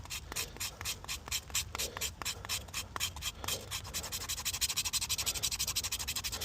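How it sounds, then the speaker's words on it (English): A knife's 90-degree spine scrapes wood shavings from a knot in rain-damp survival conditions, making a rapid rhythmic rasping of close, repeated strokes that quicken into a steady scratching toward the end. "I'm going to look for that knot right there and just start shaving"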